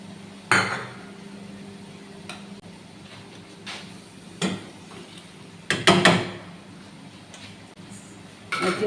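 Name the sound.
stirring pasta with butter in a cooking pot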